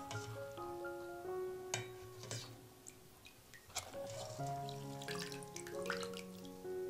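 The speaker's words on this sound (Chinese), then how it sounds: "我们接上一盆水给它清洗一下，还是把上面的豆皮儿给捞出来。" Tap water running into a basin to rinse sprouted mung beans, with a steady splashing stream and a few clinks and drips, close and alone.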